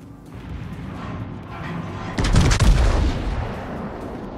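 A warship fires a heavy broadside in World of Warships from the Italian cruiser C. Colombo, a single loud booming salvo that rises sharply and then rolls away into the ongoing engine and sea noise.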